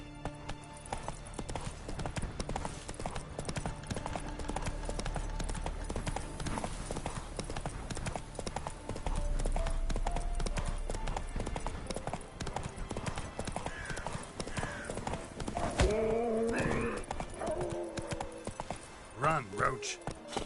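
Roach the horse gallops in the Witcher 3 video game, a steady rapid clip-clop of hooves running throughout with some snorts and game sounds near the end.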